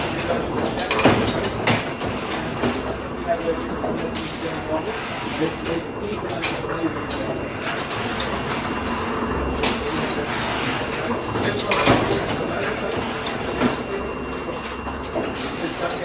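A newspaper printing machine runs steadily at a Linotype demonstration in a heritage village, a continuous loud mechanical clatter with repeated sharp clacks. Someone talks over it throughout.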